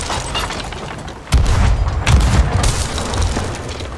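A sniper rifle shot in the pirate game Sea of Thieves, a loud booming report with a low rumbling tail, followed by another heavy boom a moment later over steady background ambience.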